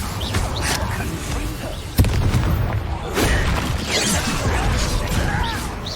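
A fiery Incendio spell blast in Hogwarts Legacy lands with a sharp boom and crash, followed by rumbling, crackling combat noise that carries on loudly under the game's music and effects.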